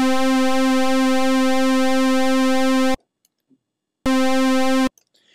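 A buzzy synthesizer tone thickened by pulse width modulation into a shimmering chorus-like ensemble sound, held loud for about three seconds, cut off, then sounded again briefly after a gap of silence.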